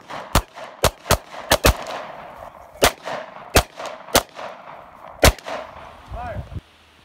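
Handgun shots at a concealed carry move-and-shoot drill: about a dozen sharp, loud reports in uneven pairs and singles, with brief quiet gaps between them.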